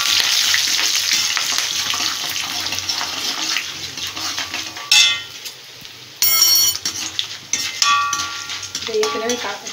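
Mustard seeds, chana dal, dried chillies and curry leaves frying in hot oil, a loud crackling sizzle that fades, broken by sharp clattering bursts of spices dropping in, with faint voice under it.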